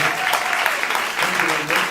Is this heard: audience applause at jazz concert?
yes